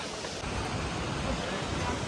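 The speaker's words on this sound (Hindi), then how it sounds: "देखो कितनी गहरे में नदी बह रही है" A mountain river runs deep in a gorge along the Kedarnath trek, giving a constant broadband rushing roar, steady and loud with no break or voice over it.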